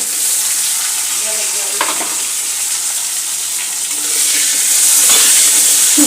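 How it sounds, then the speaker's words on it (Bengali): Bay leaf and cumin seeds sizzle in hot oil, a steady bright crackling hiss that grows louder toward the end, with occasional stirring clinks. "তেজপাতা, সাদা জিরা ফোড়ন দিয়ে দিয়েছি।"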